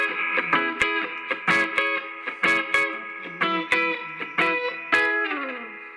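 Electric guitar through a Hughes & Kettner Metal Master pedal with a light overdriven crunch, strummed notes and chords in a steady pattern, slightly gritty and sustained, played alone.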